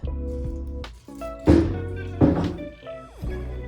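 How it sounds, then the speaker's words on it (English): Liquid being dumped out of a Honda CB1000 motorcycle gas tank, heard as hollow thunks and sloshing glugs against a low background hum, with a couple of louder splashing bursts. "So I'm gonna dump this out, rinse it out"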